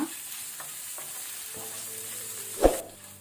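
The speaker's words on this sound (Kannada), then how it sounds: "ಈಗ ಉದ್ದಿನ ಬೇಳೆದು ಲೈಟ್ ಕಲರ್ ಚೇಂಜ್ ಆಗೋ ತನಕ ನಾವು ಲೋ ಫ್ಲೇಮಲ್ಲಿ ಫ್ರೈ ಮಾಡ್ಕೊಳ್ಳುವ" Urad dal frying on a low flame: a quiet, close sizzle with light stirring clicks, then a sharp spoon knock against the pan near the end.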